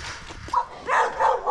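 A dog barks a few times close by, short sharp yips and woofs in quick succession with brief gaps between.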